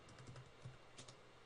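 Quiet, quick keystrokes on a computer keyboard while a Linux command is typed, a short irregular run of soft clicks close by.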